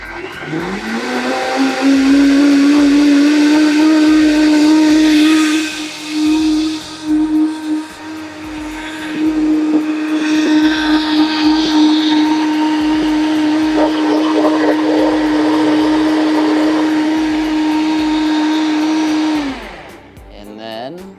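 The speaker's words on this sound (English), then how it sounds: "Really important when using a blender, high-powered blender like this, make sure you're starting on 0 and ramp it up." A high-powered kitchen blender motor whirs steadily and loudly for about twenty seconds, its pitch climbing as the speed is ramped up before it cuts off at the end.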